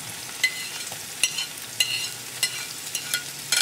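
Green peppers are stirred into frying onions with spices, a steady sizzle punctuated by regular scraping strokes of a spoon roughly every half second, close up and without speech.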